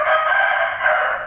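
An Aseel rooster crows in one sustained, loud, close call lasting just over a second, with no other sounds around it.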